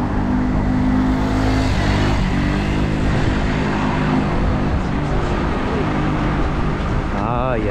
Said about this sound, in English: scooters driving too fast, too aggressive